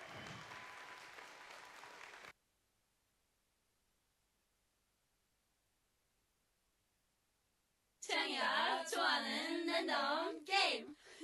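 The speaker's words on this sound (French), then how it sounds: "Allez, on peut les applaudir pour le final" Audience applause for the final performance at a New Year's wishes ceremony: a burst of clapping for about two seconds, then silence, then loud, dense clapping and cheering returns near the end.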